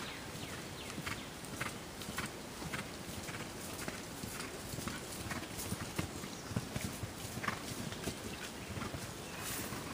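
A horse walks on a footing at a riding clinic, with light, even clip-clop hoofbeats in a steady rhythm over a fairly quiet, noisy background and no clear talk.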